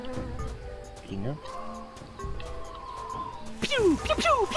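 In The Tales of Monkey Island, a bee in a noisy jungle buzzes steadily beside game ambience, and a quick series of descending chirps near the end rises louder.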